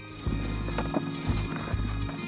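Hooves of a Vercors horse, a brown mountain breed, clip-clop in a steady walking rhythm of several firm, fairly close strikes, heard under a low steady drone with no talk.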